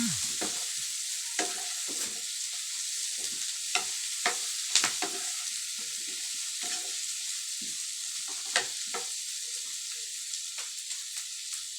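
Cauliflower stir-fries for chop suey in a hot pan, giving a steady bright sizzle with frequent sharp scraping and stirring clicks of the utensil, close and alone.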